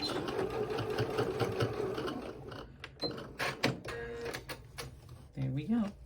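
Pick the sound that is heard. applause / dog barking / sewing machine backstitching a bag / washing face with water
sewing machine backstitching a bag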